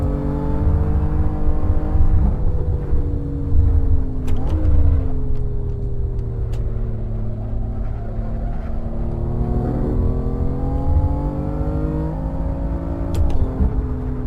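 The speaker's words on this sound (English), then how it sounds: "I'm going to try and drive this BMW" BMW M3 engine in the Assetto Corsa driving game on a track day, a loud continuous engine drone that climbs in pitch through the gears, with brief drops at gear changes around a third and most of the way through.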